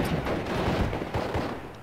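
A 3-inch mortar barrage in the wartime strategy game Steel Division: Normandy 44, heard as a dense rumble of distant explosions and firing that pulses continuously through a brief stretch, with no voices.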